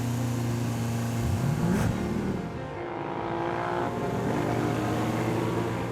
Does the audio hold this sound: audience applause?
no